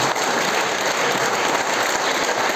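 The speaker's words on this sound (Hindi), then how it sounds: "मैं चाहूंगा एक बार ऊपर हाथ खड़ा करके सर के लिए एक बार स्पेशल ताली चाहूंगा" A large training-seminar crowd gives loud, dense, sustained applause, a continuous roar of many clapping hands close by, with no talk over it.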